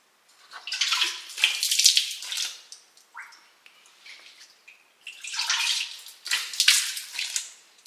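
Water splashing in bursts as hands scoop and wash a face at a spring inside Bantimurung cave, with quiet pauses between the close wet splashes.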